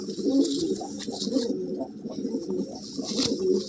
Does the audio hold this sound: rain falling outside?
no